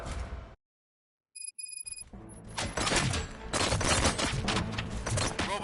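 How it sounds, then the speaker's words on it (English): Rapid gunfire in the video game RoboCop: Rogue City erupts after a silent gap and a short electronic beep, with dense bursts of shots and booms continuing loudly. "Gunshots? What's going on?"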